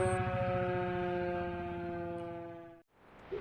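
A loud, sustained town siren wail holds a steady tone for nearly three seconds, then cuts off abruptly, leaving faint outdoor background noise.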